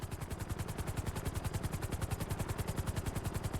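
A big cargo helicopter in GTA Online thuds with rapid, even rotor beats, a loud close chopping pulse over a steady engine roar, with no talk.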